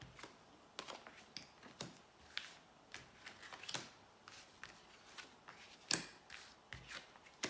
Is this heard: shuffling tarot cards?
yes